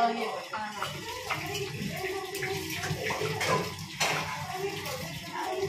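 Water splashes and spills in irregular bursts at a household tap or bucket, with sloshing and trickling throughout and voices talking over it.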